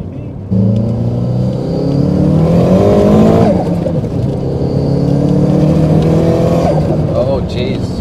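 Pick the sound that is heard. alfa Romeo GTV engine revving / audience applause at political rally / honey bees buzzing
alfa Romeo GTV engine revving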